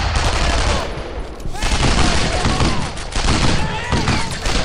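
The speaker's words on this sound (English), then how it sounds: "I am actually getting quite heavily shot here" Heavy gunfire in the World War II shooter Brothers in Arms: Earned in Blood, rapid machine gun bursts and close rifle shots rattling continuously, with voices talking amid the battle.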